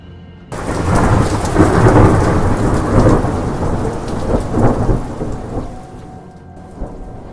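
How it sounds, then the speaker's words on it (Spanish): Heavy rain pours steadily while deep rolls of thunder rumble through, loud and close, fading toward the end. "Poco tiempo después empezó a llover más fuerte"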